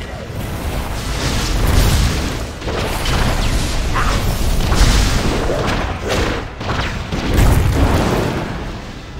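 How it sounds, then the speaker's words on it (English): The VX-001 Anti-Personnel Assault Cannon firing in World of Warcraft, a dense, loud barrage of booming blasts and mechanical bursts that rolls on continuously with swelling peaks. "Behold, the VX-001 Anti-Personnel Assault Cannon!"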